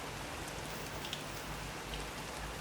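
Steady rain falls in a soft, even hiss of countless drops, constant and moderately faint throughout, with no voices or other sounds over it.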